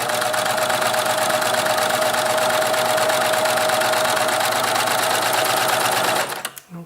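A sewing machine stitching a Butterick B6621 twist-front dress runs in a fast, steady, loud whirring chatter for about six seconds, then winds down and stops.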